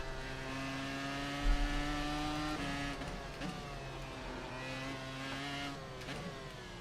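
Engine of the iR-01 race car in the iRacing video game at Suzuka hums at steady, shifting revs with tonal whine, fairly faint and continuous, with brief changes in pitch as it moves around the track.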